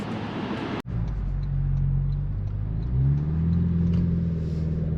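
A 2025 Toyota 4Runner TRD Pro accelerating and downshifting: a sharp thump, then a steady, close engine drone that climbs in pitch as it pulls, heard from inside the cabin.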